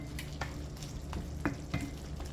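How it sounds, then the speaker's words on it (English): Jamaican oxtail and butter beans simmering in a pot as they are stirred, with a low bubbling rumble and several soft spoon scrapes spaced through the short stretch, quiet and with no talking. "And then we're just gonna allow that to simmer."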